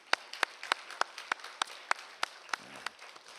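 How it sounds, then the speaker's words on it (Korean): Sparse, evenly spaced claps ring out about ten times at a steady beat in a Korean church service, congratulating members who attended 21 days of services; a small group, fairly close, with no talk. "우리 21일 동안 나온 분들 우리 축하의 박수 한번 드립시다"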